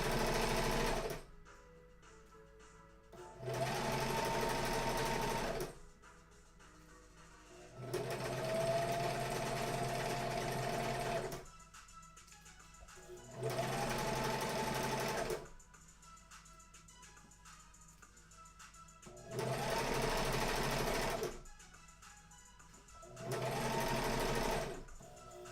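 A sewing machine stitches an Among Us plushie in repeated bursts of several seconds each, a steady fast whirring hum that starts and stops about six times with quiet pauses between, close and fairly soft.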